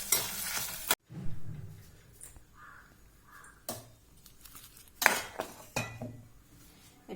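Spices for gongura thokku being stirred and fried in a pan, with soft sizzling and scraping spoon strokes that come in bursts with short pauses, close and moderately quiet.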